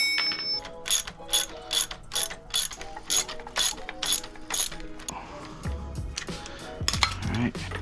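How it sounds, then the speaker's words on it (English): A ratchet loosens a spring compressor on a 2005-2009 Mustang GT strut, giving rapid, close metallic clicking in repeated bursts, followed by heavier clanks and handling noises. "I'm gonna just start loosening up the spring compressor"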